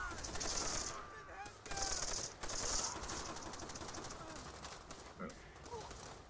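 Machine gun fire in the World War II shooter game Call of Duty: World at War comes as dense, rapid bursts of clattering shots amid battlefield noise, loud and continuous with a few short breaks.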